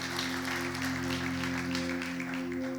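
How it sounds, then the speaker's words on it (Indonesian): Church congregation clapping for God during an Indonesian worship service, a steady wash of hands over a sustained organ or keyboard chord, continuous and moderately loud throughout. "Yang setuju berikan tepuk tangan buat Tuhan."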